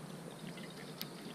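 Water poured at a campsite for morning coffee on the Superior Hiking Trail, a steady soft trickle with a faint bright splash near the end, heard alone and fairly quiet.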